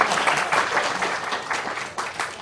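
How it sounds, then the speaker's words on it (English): A roomful of people at a business lunch talk claps together, a fairly close burst of applause in uneven surges that swells and dips over a couple of seconds. "Let's give a round of applause"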